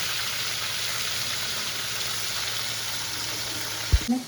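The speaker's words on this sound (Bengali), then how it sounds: "চলো ভাজতে দিই, গরম হয়ে গেছে, অল্প অল্প করে দেবো, ভেজে তুলে নেব।" Fish sizzles steadily in hot oil, a constant close frying hiss throughout, ending with a brief knock of a utensil.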